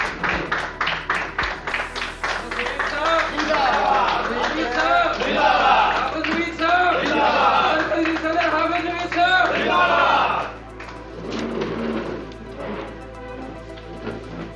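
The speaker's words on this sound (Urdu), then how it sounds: "بھرپور تالیاں نوید صاحب کے لیے" Brief clapping opens the stretch before a crowd at an agricultural college meeting breaks into loud cheering and shouting, then fades to murmurs and scattered voices.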